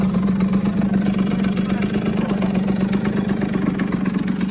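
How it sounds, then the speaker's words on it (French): A 50cc motorcycle engine idling steadily just after starting, a loud, close, even putter with a constant low hum throughout. "Et là, c'est bon, votre moto est démarrée."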